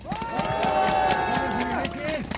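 Crowd clapping at a protest rally and press conference in Seoul, sounding as a steady patter of claps beneath someone speaking over a loudspeaker.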